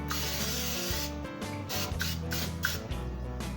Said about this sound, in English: We're gonna give that a nice spray of Pam